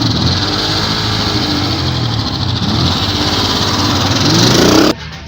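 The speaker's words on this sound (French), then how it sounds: "écoutent simplement le bruit des moteurs pour identifier les pannes" Car engines run steadily and fairly loud, a continuous mechanical drone with some revving. It cuts off abruptly near the end.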